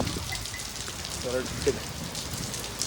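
Rain falling around a car in Goa, making a steady, dense patter of drops on surfaces throughout, with faint voices briefly in the background.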